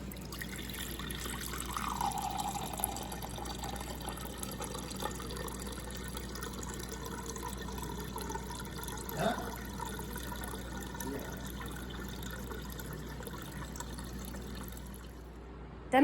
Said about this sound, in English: Then we're going to pour in the water.